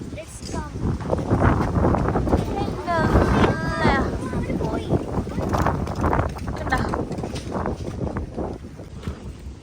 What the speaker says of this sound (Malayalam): നല്ല നല്ല കാറ്റുണ്ട്